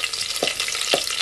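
Garlic fries in hot oil in a pan on a wood-fired stove, a steady bright sizzle broken by two quick stirring scrapes, close and alone.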